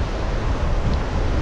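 Strong wind blasts across the microphone at Grenen beach in Denmark, a loud, dense, unbroken roar filling the whole short stretch with no voices.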